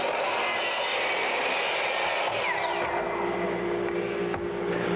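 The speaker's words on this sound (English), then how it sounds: "Go over to the miter saw and cut them to length." Miter saw cutting 3 1/2-inch wood rips to length for a paint drying rack, a loud continuous rasping whine of blade through wood filling the whole stretch with no talk.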